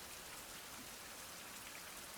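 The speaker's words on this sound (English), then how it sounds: "the rain usually lasts a couple of hours" Steady rain falls on surfaces outdoors, a soft, even hiss of raindrops held at a quiet level throughout with no voices and no thunder.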